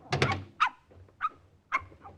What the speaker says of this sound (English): Let me put the dog in the car, and then I will show you.